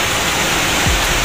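Heavy, storm-like rain pours outside a home kitchen as a loud, dense, continuous wash of hiss with no gaps.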